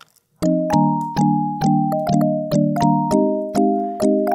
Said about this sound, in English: as you can hear it already sounds like a very convincing kalimba